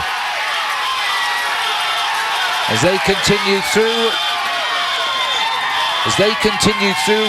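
Roadside crowd cheering and shouting as pro cyclists race past during the USA Pro Challenge, a steady wash of noise with bursts of louder yelling, heard under a commentator's talk.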